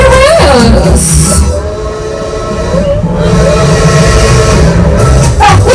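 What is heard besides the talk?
train whistle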